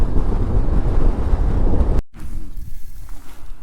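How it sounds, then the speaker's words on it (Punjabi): Strong wind buffets the microphone in the mountains of the Zanskar region near Padum and Kargil, a loud, rumbling roar that cuts out for a moment before continuing slightly weaker. "ਹਵਾ ਜੀ ਬਾਲੀ ਵਗਦੀ ਆ"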